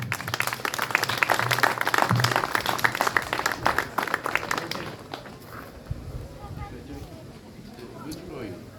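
A crowd at a French koi show prize ceremony claps for a friendship-prize winner in a dense burst of applause lasting about five seconds, then it dies away and someone speaks over quieter murmuring.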